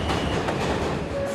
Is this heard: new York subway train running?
yes